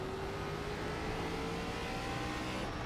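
An iRacing ARCA stock car engine at Lanier Roval holds a steady, continuous drone with a sustained tone, heard alone without talk for the whole stretch.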